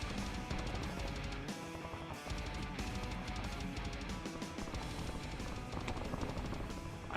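Rapid, continuous automatic gunfire in a first-person shooter video game, loud and unbroken throughout, with dense overlapping shots and game sound effects and no talking.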